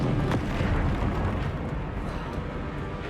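The Bombarda spell in Hogwarts Legacy bursts as a single close rumbling explosion that trails off into a dense, steady roar for a few seconds, with no talk.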